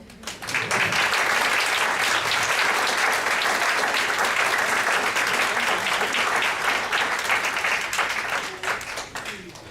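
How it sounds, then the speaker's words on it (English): Guests at a wedding reception give the bride's group a full round of applause, loud and sustained clapping from a large room that swells quickly, holds for several seconds and slowly thins toward the end. "So I think the bride group deserve a round of applause for that."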